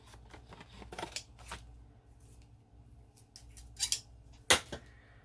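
Scissors snip away overhanging material in scattered irregular cuts, some soft, with two louder crisp snips near the end, close up in a quiet room.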